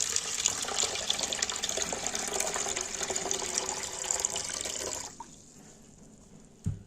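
Three cups of water pour into a pot for mung dal, a steady splashing stream for about five seconds that stops abruptly, followed by a soft clunk.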